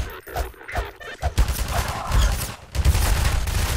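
Enemy gunfire in the video game Half-Life 2 comes in irregular strings of cracking shots, sparse at first and then building into a heavier, continuous volley toward the end.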